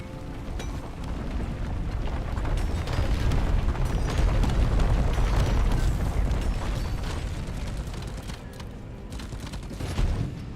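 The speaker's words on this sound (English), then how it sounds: "Explode! Explosives, nice." Explosives detonate in a video game as a dense, continuous run of booming blasts and rumbling bursts. The noise swells through the middle and stays loud and unbroken for about ten seconds.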